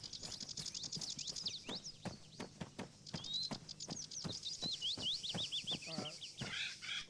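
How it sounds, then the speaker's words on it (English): Chirping bird calls in a military shooter game, a rapid series of bright tweets and trills repeating throughout, mixed with sharp clip-clop-like footstep or impact hits and a low background rumble. "Jesus, fucking bird scared the fuck out of me"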